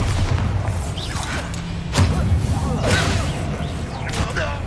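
A Bombarda spell blast in Hogwarts Legacy lands as a deep boom with a thump and rushing whoosh, amid busy battle effects and low rumbling throughout.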